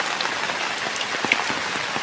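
Rain falls steadily on a backyard home garden with cashew and other plants, a dense, even patter of drops with occasional louder close splats.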